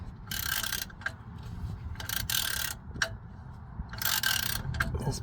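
A ratchet tightening the front shock bolt on a 2024 Ram 3500 Longhorn dually, bursts of rapid metallic clicking in several strokes with short pauses, close and fairly loud over low background noise.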